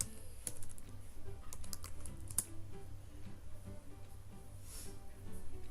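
A search word typed on a computer keyboard while working in the Canva design tool, with a quick irregular burst of quiet, close keystrokes followed by a few scattered taps.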